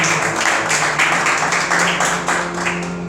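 A church congregation claps during a worship service. The clapping is rhythmic and moderately loud, with a sustained tone or hum beneath it, lasting about three seconds.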